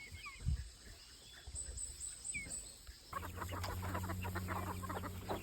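Free-range native chickens on a farm, some of them sick with colds, clucking and squawking close by as they are chased and caught, with rustling movement and a steady low background hum later on.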